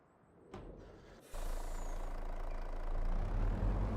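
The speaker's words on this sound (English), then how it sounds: "One of the advantages of having a fifth wheel tractor unit is, you know, you can change the trailer on it." Fifth wheel tractor unit truck in Farming Simulator 25, its engine idling as a steady low rumble that jumps louder after a brief hiss and click, then holds a constant drone.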